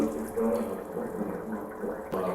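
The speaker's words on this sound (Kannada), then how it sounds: "ಇವಾಗ ಇದಕ್ಕೆ ನಾನು 1 ಸ್ಪೂನಷ್ಟು ಸೋಯಾ ಸಾಸ್ನ ಹಾಕ್ಕೊಳ್ತೀನಿ." A spoonful of soy sauce poured into chicken liver cooking on a medium flame for a coastal-style pepper dish: a steady, close hiss of sizzling liquid that stays even throughout, with a sharp jolt near the end.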